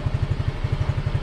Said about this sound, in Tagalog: Medyo mahina pa kanyang makina guys eh.